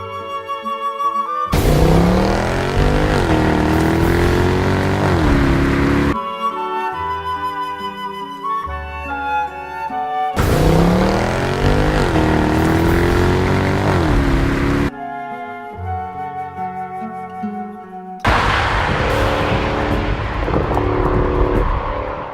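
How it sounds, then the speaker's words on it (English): A 2014 Mercedes-Benz C63 AMG Edition 507 wagon's engine and exhaust blare loudly through two hard accelerations with rising pitch across gear changes, separated by quieter overrun stretches. "you can really hear the blare of the exhaust and the overrun when you're downshifting"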